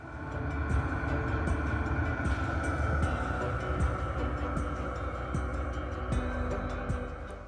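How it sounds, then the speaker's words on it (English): A diesel heater starting up inside a camper van in chilly weather gives a steady, fairly loud whirring roar, with faint regular ticking clicks running through it the whole time. "It was pretty chilly, so I turned the diesel heater on."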